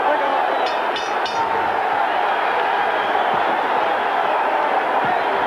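A boxing arena crowd cheers and roars loudly on its feet during a 1989 bout between Roberto Duran and Iran Barkley, a thick sustained wall of noise with a few sharp whistles early on.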